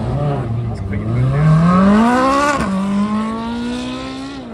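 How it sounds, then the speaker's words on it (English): Loud and close, a hypercar's engine roars with induction noise as it accelerates along a runway at a supercar festival, pitch rising steadily before a quick gear change and a renewed climb. "You hear this induction roar as you're driving the car on the runway."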